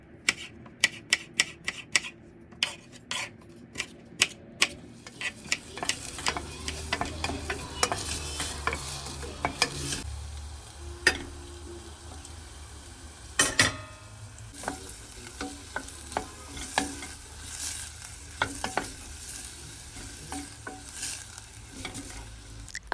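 Onions fry in ghee with garlic and red and green peppers, a close crackling sizzle broken by many sharp spatula taps against the pan, quick clicks at first and then scattered knocks over a steady hiss.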